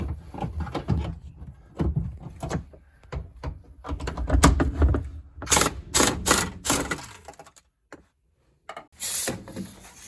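Impact wrench removing a lower strut bolt on a Honda CR-V during a lift kit install, heard as several sharp rattling bursts of hammering among clanks and handling noises in a garage.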